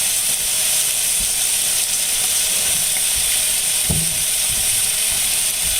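Beef tenderloin sears in a pan with a steady, loud hiss of sizzling fat, punctuated by a few faint clinks and knocks, with no talking.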